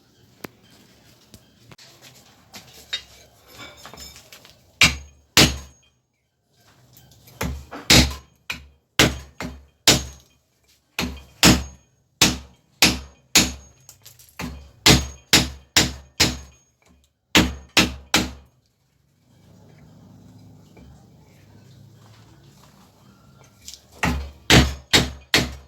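Repeated sharp hammer blows drive a coil out of a microwave oven transformer using a piece of wood, irregular bursts of loud knocks with pauses between, some faint handling noise.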